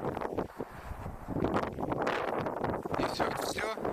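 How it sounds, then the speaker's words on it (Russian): Gusty wind by a river buffets the microphone in rough bursts, with rustling and a voice speaking briefly beneath the noise. "Ветер, конечно, офигенный."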